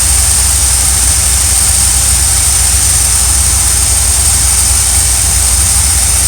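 Hot RV engine runs with a loud, steady, low rumbling drone and a constant high whine above it, close by and unchanging throughout, with no talking.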